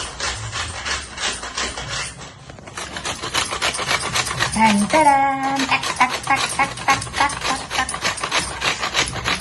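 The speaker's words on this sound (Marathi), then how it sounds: "आता खोबरं किसून घेते" Coconut grated by hand makes a steady, close rasping scrape in rapid repeated strokes, pausing briefly before resuming louder, with a short voice-like sound in the middle.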